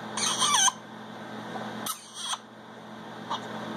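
A pet bird lets out loud, harsh squawking calls, a long burst at the start and shorter ones after, over a steady indoor background hum with no talking.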